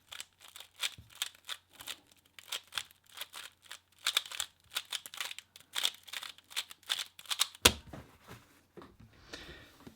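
A Rubik's Cube is scrambled by hand at close range: a rapid, irregular run of dry plastic clicks and clacks from twisting layers, ending with a louder knock and some rustling.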